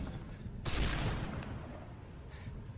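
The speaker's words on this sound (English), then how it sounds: "Just throwing the stun and let it explode on my face." Modern Warfare 3 stun grenade exploding at close range: one sudden sharp bang that rings and fades over a second, faint and thin against quiet background gunfire.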